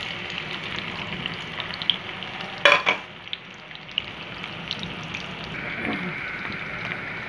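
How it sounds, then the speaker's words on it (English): Sliced red potatoes frying in a pan of hot oil for aloo ki bhujia, a steady close sizzle with a brief louder clatter near the start, no talking. "Now I am going to add some oil into it and add the sliced red potatoes"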